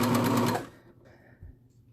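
A serger sewing machine stitching a neckband runs in a fast, close, buzzing burst for well under a second, then stops, leaving near silence with a faint low thump.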